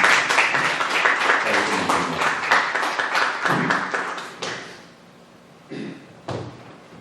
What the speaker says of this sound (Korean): 뜨거운 환영의 박수.